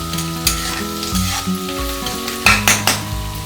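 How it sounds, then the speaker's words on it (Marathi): Onions frying in a pan for a Maharashtrian vang batata rassa bhaji give a steady close sizzle, with several sharp spoon-stirring scrapes and knocks against the pan and no one talking. "व्यवस्थित फ्राय करून घ्यायचा आहे कांदा"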